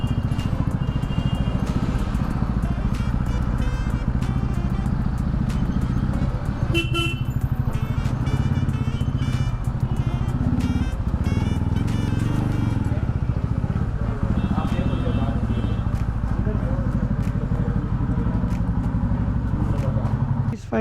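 TVS Ronin 225 motorcycle on a road test ride after servicing, its engine running steadily and loud under constant road and wind noise, with car horns tooting around it in traffic.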